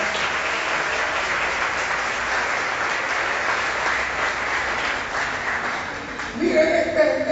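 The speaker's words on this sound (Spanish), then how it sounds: "Denle un aplauso al Señor" A church congregation claps together in sustained, dense applause that fills the space, loud and steady before thinning out as a voice begins to speak at the end.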